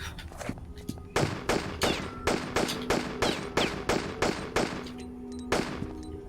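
Gunfire in the Tomb Raider custom level Black Villa: a rapid series of roughly a dozen sharp pistol-like shots, evenly spaced at first and then in pairs, fairly loud over a low game ambience.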